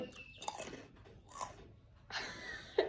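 Close, crunchy chewing of spicy Malaysian instant noodles comes in a few uneven bursts of bites and mastication, with no talking over it.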